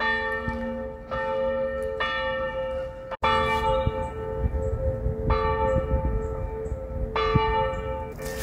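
Loud church bells in Dampierre, France peal repeatedly, each new strike layering over the lingering hum of the last, with no voices present.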